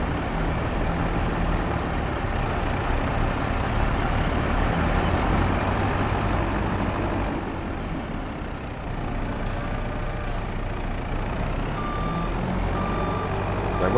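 Truck reversing in the farming game Hills of Tuscany: a steady engine rumble with rapid repeated reversing beeps, plus a brief hiss like an air brake partway through, close and continuous.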